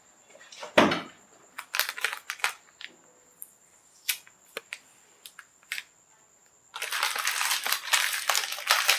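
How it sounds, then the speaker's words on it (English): A car door is opened beside the right front fender: scattered sharp clicks and taps from the latch and handle, then a steady rushing noise close by. "Open the door."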